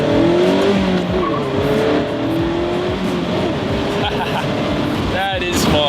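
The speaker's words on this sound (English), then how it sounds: "let me do a quick little acceleration here. See how quickly we can get this Miata up to speed" A 2016 Mazda MX-5 Miata accelerating hard, engine note rising through the gears with audible shifts, ending in a sharp high rev near the end, close and loud over road and wind noise.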